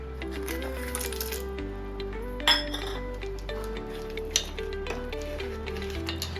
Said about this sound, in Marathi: आता आपण त्याच्यामध्ये बत्ताशे टाकून घ्यायचे